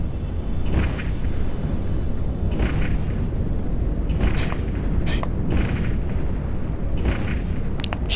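Ship weapons firing on enemies in the EVE Online video game: a steady low rumble with repeated bursts. Short, sharp zaps and pops recur every second or so, close and moderately loud, with no talk.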